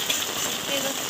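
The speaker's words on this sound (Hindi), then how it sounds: "बहुत बारिश हो रही है।" Heavy monsoon-style rain pours steadily at a home in India, a dense continuous hiss filling the short moment with no voice.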